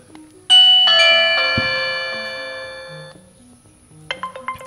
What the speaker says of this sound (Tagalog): kapag once pinindot ko ang doorbell